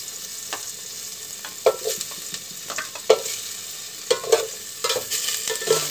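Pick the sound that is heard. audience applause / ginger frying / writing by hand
ginger frying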